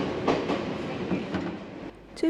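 Inside a Japanese train that allows bicycles on board, with a steady low rumble and soft rhythmic clickety-clack of wheels on rails, continuous and fairly loud, with a brief squeal near the end.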